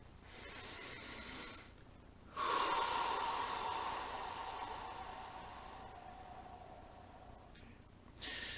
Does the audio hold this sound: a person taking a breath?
yes